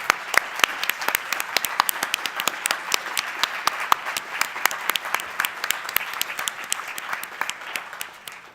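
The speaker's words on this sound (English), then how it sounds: "I just want them to stand up so that we can give them a round of applause." A modest audience claps at the closing of a global cancer research symposium, with individual hand claps distinct and crisp over a softer wash, steady and fairly close throughout.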